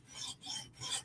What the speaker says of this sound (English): the fun part of sharpening for me is this stone